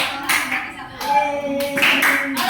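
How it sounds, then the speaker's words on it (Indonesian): A fifth-grade elementary school class in Indonesia (SDN Petapan 1) does a single clap drill: sharp, scattered group claps land at intervals between a teacher's spoken prompts. "Tepuk tunggal itu 1."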